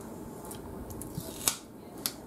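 Scissors snipping off excess paper while making a double easel fancy-fold greeting card, with two or three short, crisp cuts standing out over quiet room noise.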